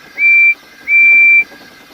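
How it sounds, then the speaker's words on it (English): A steam tank engine's whistle sounds twice, a short shrill blast and then a longer steady one, clear and close over a faint background. "He whistled in horror, for rushing straight towards him was Gordon with the express."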